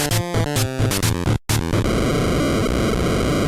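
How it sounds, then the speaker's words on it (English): An arcade machine in the horror game Fredbear and Friends: Left to Rot breaks down in a loud burst of harsh electronic noise, stuttering beeps and tones that cut out briefly, then a dense distorted buzz and glitchy tone. "I think the arcade machine died"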